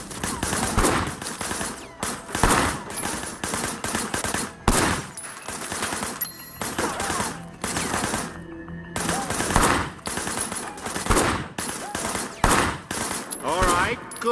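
Bursts of automatic gunfire from a shootout in the open-world game Sleeping Dogs: Definitive Edition, loud and close, coming in repeated rapid volleys with brief gaps, while faint voices sound underneath.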